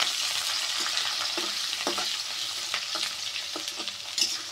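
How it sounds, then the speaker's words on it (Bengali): Chopped onion and green chillies frying in a pan after browned cumin, a constant bright sizzle broken by intermittent spatula scrapes, with no speech. "পেঁয়াজটা আমি হালকা একটু ভেজে নেব"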